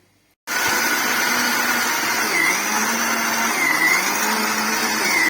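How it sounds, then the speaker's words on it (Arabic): A kitchen blender or grinder starts abruptly and runs loud and steady, whirring with a high motor whine as it grinds cacao nuts, almonds and sesame seeds, the pitch wavering slightly under load. "حتى نطحنوا الكاوكاو واللوز والزنجلان"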